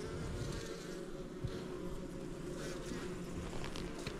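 Honey bees buzzing around a hive, a dense, steady drone of many insects close by that fills the whole stretch without pause, with no voices.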